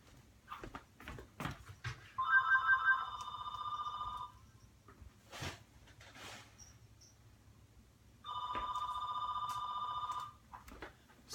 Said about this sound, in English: Just trying to silence that phone from ringing